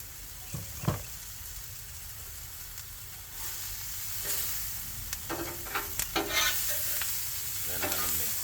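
Thinly sliced cheesesteak meat sizzles on a Blackstone flat-top griddle, a steady frying hiss broken by scraping and stirring strokes of a spatula and a few light knocks, fairly quiet and close.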